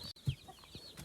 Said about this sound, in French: Regardez ce petit coq